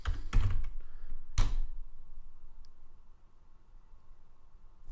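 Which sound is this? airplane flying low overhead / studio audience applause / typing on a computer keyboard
typing on a computer keyboard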